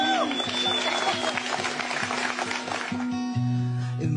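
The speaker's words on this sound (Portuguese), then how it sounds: "uma salva de palmas." A crowd claps in a dense, steady round of applause at a live music show, loud and close, with a repeating low tone underneath.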